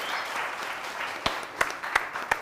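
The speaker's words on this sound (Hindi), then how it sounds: "आप लोग जरा इसके लिए, मासूमियत के लिए तालियां बजाइए, बजाइए बजाइए" A studio audience on a TV morning show breaks into steady clapping, a dense applause wash that runs throughout, with a few louder single claps standing out near the end.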